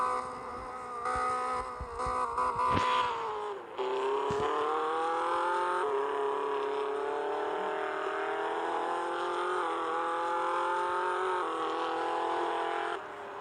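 A Tofaş car's exhaust revs in a video game as a buzzy, synthetic engine tone climbs and then holds a steady drone for several seconds, with no voices.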